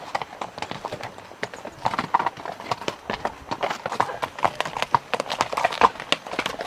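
Horse hooves clip-clop in a steady rhythm on a horseback trail ride along the Continental Divide, close and moderately loud, with occasional faint creaks and no speech.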